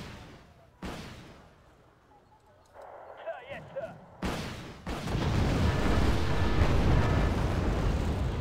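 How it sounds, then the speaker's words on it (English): Mortar fire in a strategy video game. Heavy booming bursts land one after another, some with a rumbling crackle, and the sound grows into a sustained roar of explosions near the end. A voice talks underneath. "but at least we can stun it with mortars"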